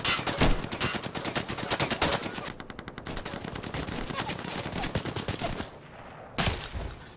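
Heavy automatic gunfire in the tactical shooter Insurgency, rapid and loud bursts rattling almost continuously, with brief pauses near the middle and end before the shooting resumes.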